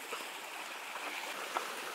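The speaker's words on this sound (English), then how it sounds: "The huge waterfall." Steady broadband rush of falling water, a constant hiss from a huge waterfall on Bokor Mountain heard from a short distance, with no voices.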